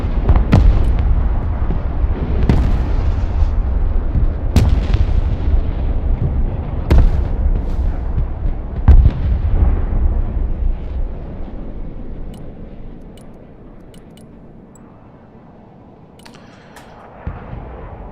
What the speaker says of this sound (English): There's a lot of rockets.